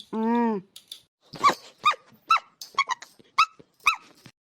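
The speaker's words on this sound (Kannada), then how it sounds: "ಅಯ್ಯೋ ನಾಯಿ ಕಡಿದು ಬಿಡ್ತಲ್ಲಪ್ಪ." A dog lets out a short, loud growling snarl, followed by a string of quick sharp vocal bursts close by, with no clear speech over it.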